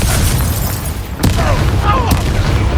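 A Confringo blast spell explodes in Hogwarts Legacy combat, a loud booming burst with sharp pops over a heavy, continuous battle rumble, with brief voice sounds mixed in.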